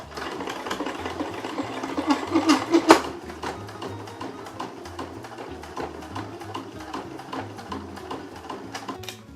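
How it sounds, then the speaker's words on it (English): A sewing machine runs a steady straight stitch around the edges of an embroidered vintage postcard Christmas ornament, its close mechanical whirr continuous throughout with a few louder thumps partway through. "I've sewed around all 4 sides"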